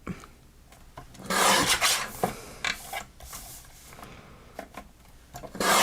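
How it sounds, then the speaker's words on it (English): A paper trimmer cuts a craft card base, giving a few rasping, scraping strokes of blade across paper, close and moderately loud, with quieter handling rustles between passes and no talk. "I think I do want to trim the left and the right side a little bit."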